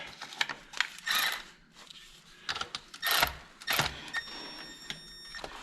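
Ratchet wrench loosening bolts while a G900 tractor's PTO brake is being changed: several bursts of quick metallic clicking and rattling with short pauses between, fairly close and moderately loud, no voices.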